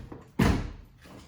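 A car door on a 1998 Jeep Grand Cherokee 5.9 Limited is shut once with a single solid, loud thud, up close in a garage during a brake caliper replacement.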